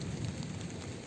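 Steady rain falls during a thunderstorm, a dense even hiss with a low rumbling wash underneath, fairly faint and continuous without any voices.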